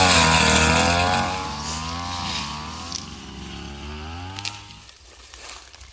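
A motorized weed slasher clears grass around young Pandan coconut trees on a farm plantation. Its engine drones loud and close with a wavering pitch, then eases off near the end.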